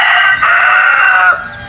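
A rooster crows loudly and close by, one drawn-out call that trails off near the end.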